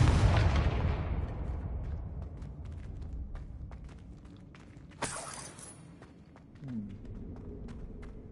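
A Confringo explosive spell in Hogwarts Legacy goes off with a loud booming blast that slowly decays, followed by a sharp crackling burst and a fainter rumble.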